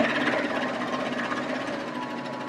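A serger stitches along fabric for bowl cozies, a steady close mechanical whir that runs unbroken and fairly loud throughout.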